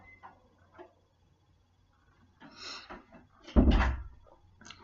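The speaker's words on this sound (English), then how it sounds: "Close the door." A door or cupboard is handled with soft rustles and knocks, then shut with one sharp, loud, close thud that rings briefly, in a quiet room.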